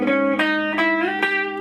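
Distorted electric guitar running through an A harmonic minor scale, four evenly spaced picked notes with crisp attacks and sustained overdriven ring, loud and alone.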